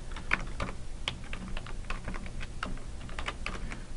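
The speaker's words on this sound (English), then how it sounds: "In the category field, go ahead and type your review category." Steady typing on a computer keyboard, with quiet, close key clicks in an uneven run and a few sharper taps standing out.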